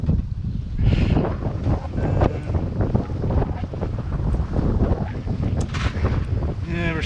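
Strong wind buffets the microphone aboard a boat crossing from Penzance to the Isles of Scilly, a constant roaring rush with water noise beneath and a brief voice near the end.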